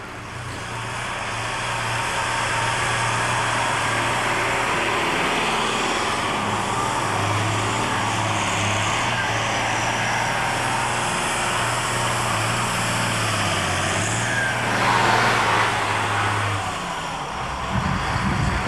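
A Case IH 7250 Magnum tractor engine runs steadily at a 1993 farm show, a low continuous drone holding for most of the stretch with a slight pitch dip, then fading near the end.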